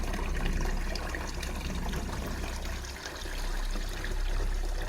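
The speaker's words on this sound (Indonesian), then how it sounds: "Suara air dan pancuran bambu terdengar jelas menenangkan siapa saja yang mendengarnya" Water trickles steadily from a bamboo spout into a pond, a soft, continuous splashing that swells slightly and dips briefly midway, with no voices.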